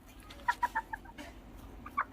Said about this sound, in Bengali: এই ও ও কিন্তু পুরো ট্যাম সাইজের একটা মুরগি